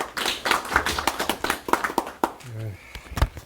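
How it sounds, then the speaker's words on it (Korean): Clapping from the audience at a Korean panel discussion as the moderator, a professor, is introduced; irregular hand claps mixed with a voice, fading into a lone voice near the end. "자장님께 큰 박수 부탁드립니다."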